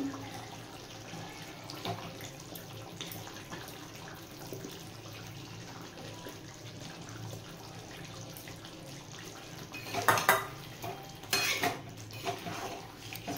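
Fried potatoes go into a pot of simmering mutton for a mutton dak bungalow curry. Two brief, faint clattering bursts rise near the end over a quiet, steady kitchen background.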